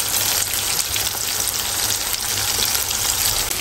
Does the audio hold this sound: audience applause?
no